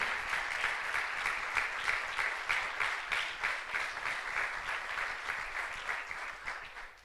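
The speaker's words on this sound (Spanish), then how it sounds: "Dale un aplauso bien fuerte al que vive." Loud, sustained applause from a church congregation, dense rapid clapping rolling on without pause at steady volume from start to finish.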